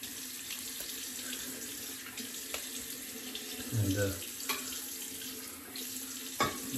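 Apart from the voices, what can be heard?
water running from tap into shaving bowl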